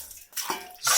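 Water scooped and poured out of a marble basin in a Turkish bath, with short splashing pours and clattering of the bowl against stone, close and bright, in a brief one-second burst.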